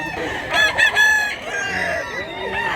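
A 16-month-old gamecock rooster at a budget poultry market crows once, loud and close, its call rising and falling over roughly a second and a half above a steady background of chatter.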